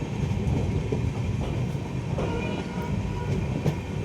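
The 14720 Amritsar–Bikaner Superfast Express rolls through a gentle curve onto the main line, a continuous low rumble of wheels and carriages with faint rhythmic clatter, steady and moderately loud throughout.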